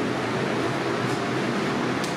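Fume extraction fans in a paint booth run with a steady, even rushing whoosh of moving air, close and continuous with no other sounds.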